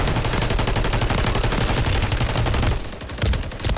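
A Warzone 3 firefight with loud, rapid automatic fire hammering almost without pause, breaking off near the end into a few separate shots.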